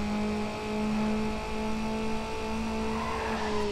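Race car tires squealing under hard braking in the arcade racer Need for Speed: Underground, a loud sustained screech over a steady engine drone that holds for the whole stretch.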